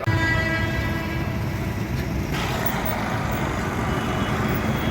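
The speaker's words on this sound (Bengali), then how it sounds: "দেখুন বর্ধমান কোয়ার্ডের ট্রেন যাচ্ছে" A passenger train passes through Bally Halt station on the Burdwan line, a steady loud low rumble running throughout with no talk.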